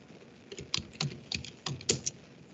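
Someone types an fdisk command on a computer keyboard, with close, irregular key clicks in quick bursts and no talking.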